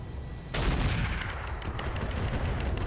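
Weapons fire in direct fire mode in the RogueTech mech game, a sudden loud burst of gunfire followed by a sustained rumbling barrage of shots and impacts.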